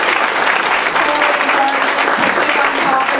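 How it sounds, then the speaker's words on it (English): An audience claps steadily in a sustained round of applause at a political coalition event, a dense, even patter of many hands that fills the room. "I know I think they deserve another round of applause."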